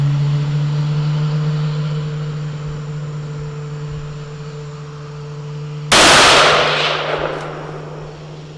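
A single loud, sharp rifle shot from a Savage B Mag chambered in .17 WSM at an outdoor range, cracking suddenly after steady background hum and ringing off into a fading tail.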